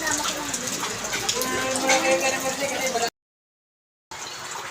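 Steady rain hisses and patters during flooding in Barangay Talaba 2, Bacoor, Cavite, cutting out to silence for a moment before resuming.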